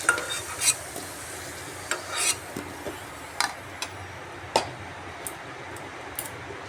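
Deep-fried potatoes are scooped from hot oil in a pan, giving sharp metallic scrapes and clinks at uneven intervals over a faint, continuous sizzle.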